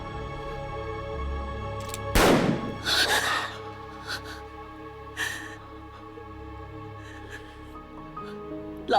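A single sharp, loud gunshot cracks out in a Republican-era Chinese period drama scene and rings over the low background score.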